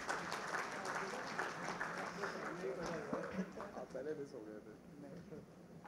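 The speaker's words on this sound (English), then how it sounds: "Can we please give him a huge round of applause?" Awards-ceremony audience applauding for a trophy presentation, steady mid-level clapping with crowd noise and a voice speaking over it.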